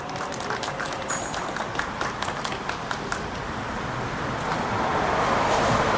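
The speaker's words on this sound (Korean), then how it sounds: "학사중부 재능지구 이현수 동지를 힘찬 박수로 모셔보겠습니다." Applause from a crowd at an outdoor candlelight rally, dense clapping building and growing louder toward the end, with wind noise over the open air.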